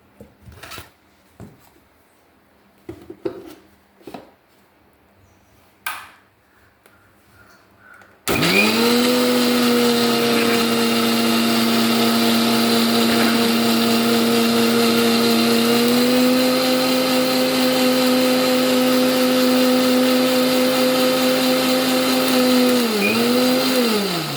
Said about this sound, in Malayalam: കുറച്ച് വെള്ളം കൂടി ഒഴിച്ച് ഒന്നുകൂടി അരച്ചെടുക്കുക മിക്സിയിൽ